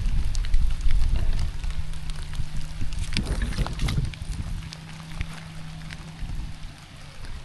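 Rain pattering steadily on a fishing pond, a broadband hiss that fills the clip with a low hum running underneath and a brief louder burst of splashing or rustling midway.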